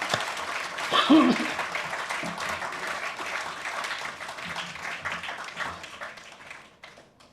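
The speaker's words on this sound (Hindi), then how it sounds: "तालियां करेंगे।" Audience applause at a theatre award ceremony, a full round of many hands clapping that peaks early and gradually fades, with faint chuckles and murmurs in the hall.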